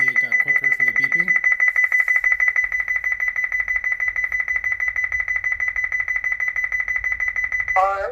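A Honeywell Lyric security system keypad beeps steadily, repeating rapidly and evenly as it arms, loud and close, with a brief voice at the start and end.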